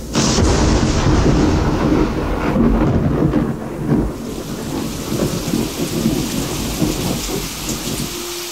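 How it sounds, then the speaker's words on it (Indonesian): Steady heavy rain pours with deep rolling thunder rumbling through it, a loud continuous storm effect with no voices. "hujan terus menerus dari pagi sampai sore"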